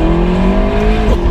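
A McLaren 650S sports car engine droning loud and steady from inside the cabin while driving twisty roads, with a brief pitch shift near the end.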